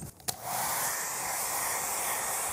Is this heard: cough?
no